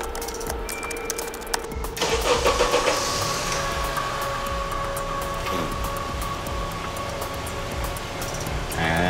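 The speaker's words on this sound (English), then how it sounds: "You could start and stop the engine from the other side of the parking lot." A car engine cranks and catches after a remote start command sent over the GSM network in a parking lot, then settles into a steady mid-pitched idle with no talk.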